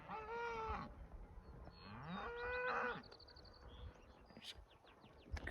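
Cattle being herded into a pasture moo loudly and close, two long drawn-out calls followed by fainter lowing, with birds chirping softly in the background.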